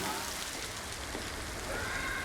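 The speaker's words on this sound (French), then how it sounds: "Il pleut, on va à la gare." Steady rain pattering on a surface, a soft even wash of drops with no breaks, fairly quiet and without voices.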